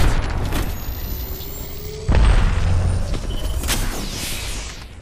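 Gunfire and heavy impacts in Apex Legends Arena 3v3 play: a loud booming thud strikes midway over a rumbling, hissing game backdrop with scattered sharp cracks, fairly close and dense.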